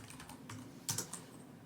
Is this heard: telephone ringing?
no